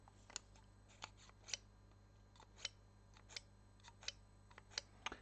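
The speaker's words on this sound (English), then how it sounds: "Blade is sharp again, just cuts right through it." A small sharpened hobby blade slices through model-making material for custom Warhammer Ork deff dreads and grot tanks, giving a series of quiet, crisp snipping clicks spaced irregularly over a low steady background hum.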